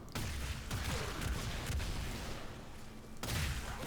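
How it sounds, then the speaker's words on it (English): Warframe's Gorgon Incarnon fires on full auto with delayed explosions, giving a rapid stream of close, punchy shots and booming bursts across a few seconds of game audio, with no talking. "A little bit delayed explosion. But hey, at least it's full auto."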